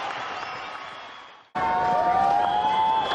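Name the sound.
crowd cheering at a cricket match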